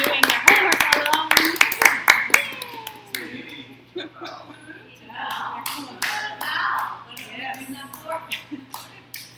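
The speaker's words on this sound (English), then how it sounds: "let's all give a round of applause to our people that have been doing their homework along." A classroom of students claps briefly and loudly at first, then the clapping thins into scattered claps while children and a teacher talk.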